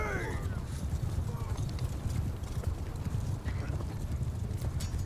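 Hooves of horse archers gallop in a medieval battle video game, a dense running clatter under the din of combat, with a voice talking over it.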